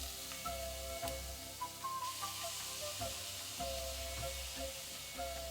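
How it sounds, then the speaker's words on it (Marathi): Beetroot and fresh grated coconut roasting in ghee in a pan, giving a steady soft sizzle and hiss with light stirring scrapes, close up and continuous with no talk. "आणि या तुपामध्ये आपण भाजून घेऊया बीट आणि ओलं खोबरं."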